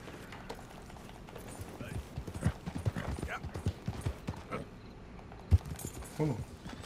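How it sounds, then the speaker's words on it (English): Rhythmic clip-clop of horse hooves at a steady trot in Red Dead Redemption 2, mid-distance, with a few clanks and a snort among the footfalls. "Why the fuck didn't this goddamn horse turn?"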